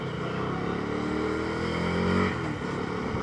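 A KTM Duke 250 Gen 3 motorcycle braking hard with both brakes on a ride, its engine note steady and loud, then winding down as the bike slows.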